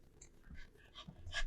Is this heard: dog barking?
yes